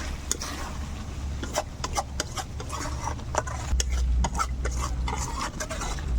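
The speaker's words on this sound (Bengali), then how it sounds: "মিশিয়ে নাও ভালোভাবে।" Chilli chicken sprinkled with garam masala gets stirred in a pan, with quick, rhythmic spoon scrapes and clinks over a low sizzle and a steady low hum, close by.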